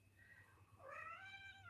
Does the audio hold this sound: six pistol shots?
no